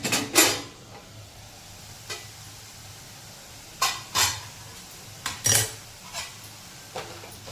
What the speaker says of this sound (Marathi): आपण झाकण काढून घेऊया भाजीवरचं आपल्या